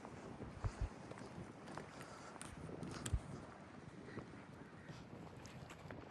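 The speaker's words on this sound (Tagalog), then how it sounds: "Grabe, ang lakas talaga ng hangin" Strong wind buffeting the microphone outdoors in America, a low rumbling roar with irregular gusty thumps, steady and close throughout.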